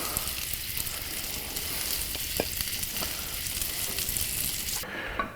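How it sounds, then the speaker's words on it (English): Food frying on a griddle in burger drippings, a steady, close crackling sizzle with scattered pops that runs throughout and cuts off near the end. "You lay them right in the goodness of the burger drippings. And they'll fry right on that"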